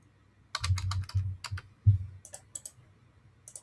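Keys click on a computer keyboard while a PlantUML diagram is written, in quick irregular bursts of close, crisp taps with short pauses between words.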